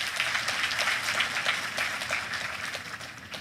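Audience applause at the Nigerian Economic Society's 66th conference, honoring Senator Abubakar Atiku Bagudu; a steady, moderately loud wash of many hands clapping throughout, with no voices rising above it.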